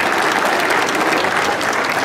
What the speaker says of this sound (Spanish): Pido un aplauso para él por esa presentación tan fenomenal que ha hecho